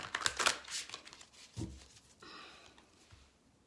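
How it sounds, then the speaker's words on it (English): Cards are riffled and shuffled in a few quick, crisp bursts of papery fluttering, close by and fairly quiet, with soft handling sounds between. "I'm going to do a couple more shuffles here of the deck"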